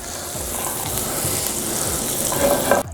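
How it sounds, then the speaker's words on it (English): Butter melting in a non-stick pan while being stirred, a loud, continuous sizzle with scraping movement that stops abruptly at the end. "You're gonna add about 3 slices of butter into a non-stick pan."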